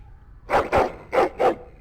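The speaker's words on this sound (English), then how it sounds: "that's a loud dog" A dog in the video game Dragon Age: Origins barks four times in two quick pairs, loud and close, with a faint low background hum between the barks.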